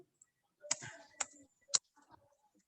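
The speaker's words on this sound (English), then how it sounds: "I'm trying to type it at the same time." Soft, sparse clicks of computer keyboard keys sound close and faint, three or four distinct taps spread over a couple of seconds in an otherwise quiet room.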